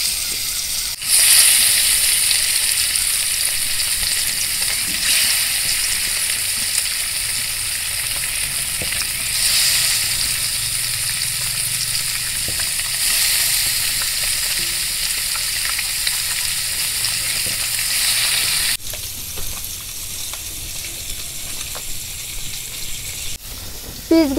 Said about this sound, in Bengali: এখন সুন্দর করে মাছগুলো ভাইজা নিই।